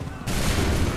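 A musket volley from a line of soldiers in Assassin's Creed 3, opening as a sudden loud burst of gunfire after a quiet moment and rolling into sustained crackling rumble.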